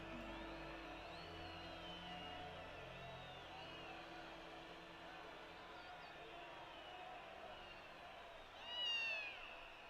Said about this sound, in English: Little tiny cat.